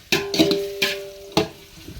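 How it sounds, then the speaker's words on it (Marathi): Onion sautéing in oil for village-style chicken biryani cooked over a wood fire, heard as repeated bright scraping stirs against the pot over a steady sizzle, close and clear. "हा कांदा आहे ना असा परतून एकदम मस्त लालसर करून घ्यायचे"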